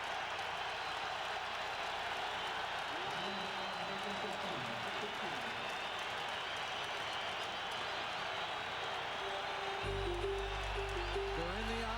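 Stadium crowd roaring steadily at a Detroit Lions at Green Bay Packers NFL football game, a dense wash of cheering throughout with a commentator talking over it.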